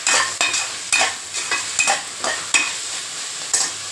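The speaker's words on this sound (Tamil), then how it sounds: "மஷ்ரூம் போட்டு நல்லா மிக்ஸ் பண்ணிக்கோங்க." Sliced mushrooms for biryani sizzle in hot oil while a spoon stirs them in a pan, each scrape landing as a rhythmic clatter over steady frying, with no voices.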